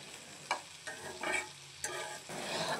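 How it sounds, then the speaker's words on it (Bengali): Okra frying and sizzling in a pan while it is stirred, giving a steady close hiss broken by several sharp scraping strokes. "এই যে আমি এখন নেড়েচেড়ে এই ঢেঁড়সটাকে ভালোভাবে ভেজে নিচ্ছি"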